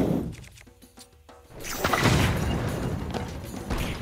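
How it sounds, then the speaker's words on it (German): A bomb detonating in Zelda: Tears of the Kingdom after a quieter moment with light tones, a sudden loud crashing blast followed by a sustained rumbling, crackling aftermath. "Warum ist denn die jetzt explodiert"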